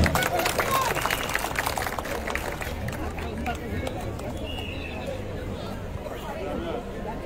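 An audience at a Mother Language Day ceremony hosted by the Moulvibazar district administration claps in a dense, steady patter that is loudest at the start and tapers slightly, with voices murmuring underneath.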